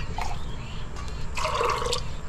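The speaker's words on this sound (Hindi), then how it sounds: "चने को मैंने प्रेशर कुकर में डाल दिया, अब इसमें डालते हैं पानी।" Water is poured into a pressure cooker onto chickpeas, a splashing, trickling fill that swells midway, heard close in a kitchen over a low background hum.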